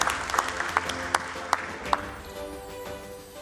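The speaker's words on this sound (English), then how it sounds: "Let's have a big round of applause, ladies and gentlemen." An audience at a stock exchange listing ceremony gives a round of applause, with several sharp claps standing out up close over a moderate crowd clapping that fades toward the end.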